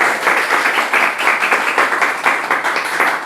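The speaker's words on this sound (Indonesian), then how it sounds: "Ya, boleh tepuk tangan dulu dong." A small group clapping on a podcast set, a close, steady patter of hand claps that keeps going without a break.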